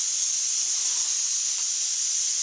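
Mustard seeds, urad dal and curry leaves sizzle in hot oil for a thali meal, giving a loud, steady, bright hiss that holds evenly throughout with no talking.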